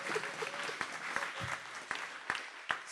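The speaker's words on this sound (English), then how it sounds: "Give yourselves a round of applause," Scattered applause from a school business event audience, fairly quiet and thin, with distinct individual claps standing out at irregular intervals.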